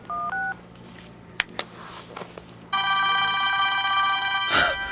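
A phone sounds off with two short dialing tones, a few sharp clicks, then a loud sustained electronic ringtone that plays steadily for about two seconds before cutting out, no voices present.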